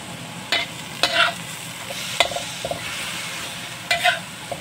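Spatula scrapes and stirs food in a hot pan at four separate moments, each a short scraping burst over a steady background sizzle of frying, close and clear with no talk.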